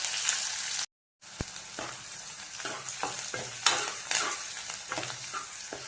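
Onions frying in oil with mustard seeds, urad dal, ginger-garlic paste and curry leaves for a potato palya, a steady close sizzle with scraping stirs and sharp clicks, broken by a brief silent gap.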